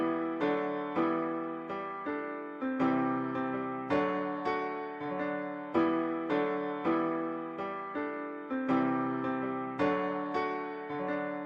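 Piano melody in FL Studio processed with two reverbs, stereo widening and chorus: a repeating pattern of soft chords and notes with lush, smeared tails, steady and alone throughout.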